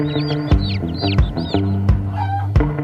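Chickens cluck and squawk in quick repeated bursts, loud and close, over a steady droning tonal background.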